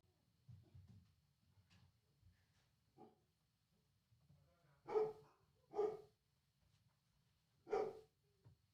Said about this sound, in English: he's going to be barking closer to the door there